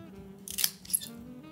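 Scissors cut through something at home just before a smoke is lit, giving two short snipping bursts over a quiet room hum.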